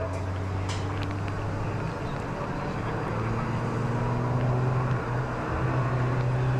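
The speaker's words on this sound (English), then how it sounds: "One car coming into the pit lane." A Peugeot 205 GTI race car in a CSCC Tin Tops race at Donington Park enters the pit lane, its engine a steady drone with a rising and shifting pitch, fairly near and continuous, heard over an ambient circuit background.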